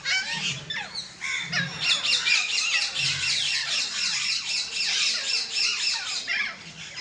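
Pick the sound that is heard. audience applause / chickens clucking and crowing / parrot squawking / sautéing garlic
parrot squawking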